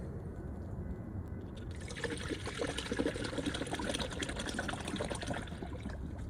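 Distilled water pours steadily into the coolant reservoir of a 2002 Mitsubishi Galant, a continuous close trickling and filling sound that grows fuller partway through, with no talking.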